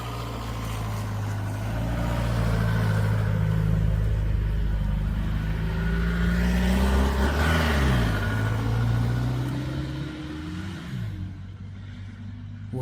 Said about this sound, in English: A person suddenly leaves in a vehicle